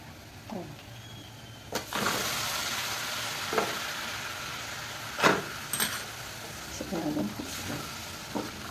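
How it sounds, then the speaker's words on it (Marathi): Drumstick pods are sautéed with a little jaggery in a pan for a Maharashtrian vegetable dish. A continuous sizzle and frying hiss carries throughout, broken by occasional stirring scrapes and clinks. "आता चांगलं परतून घ्यायचं"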